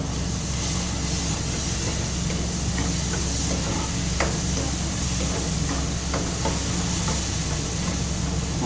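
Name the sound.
spice masala frying in pan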